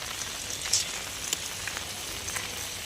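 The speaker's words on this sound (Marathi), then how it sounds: "हा पाऊस असा आहे की थांबच नाही आहे" Steady rain falls during the Navratri festival season, a soft continuous patter and hiss with a few brief louder drops, fairly quiet with no voices.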